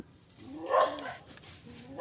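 Dogs bark at wild boars outdoors, giving a couple of mid-distance, moderately loud barks and yelps with short pauses between them.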